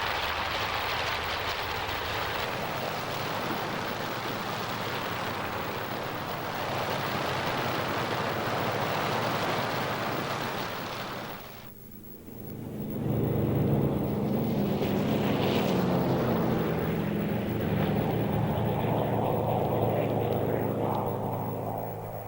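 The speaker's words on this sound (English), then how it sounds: "P-51s warm up for the longest fighter flight on record." North American P-51 Mustang fighters warm up their engines before a long-range mission, a loud, steady droning roar that drops briefly and then resumes with a deeper, throbbing tone.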